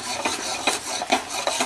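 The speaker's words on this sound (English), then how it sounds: "We're going to stir this really quick because you don't want this to burn." A spoon stirs flour quickly into boiling choux pastry dough in a pot, a close, steady rhythmic rasping scrape of about four strokes in under two seconds, with no voices.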